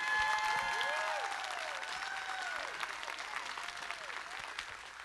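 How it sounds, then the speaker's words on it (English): A big round of applause from the audience at the grand opening of Higher Ground, with steady, dense clapping and faint whistles that keep up throughout and slowly taper off. "just give them a big round of applause,"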